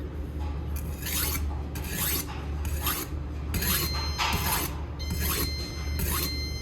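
A blade scrapes across the fine side of a whetstone in repeated rhythmic strokes, each a gritty rasping swish, steady and close with short pauses between.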